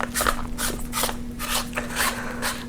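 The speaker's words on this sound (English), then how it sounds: "You simply screw it in place" Metal end cap screwed by hand onto a custom Star Wars lightsaber hilt with a Rancor tooth pommel, giving close, quiet ratcheting clicks and metallic scraping in short bursts over a steady low hum.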